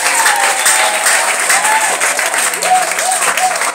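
A church congregation claps for Jesus during a testimony service, with dense, loud, sustained applause from many hands all the way through.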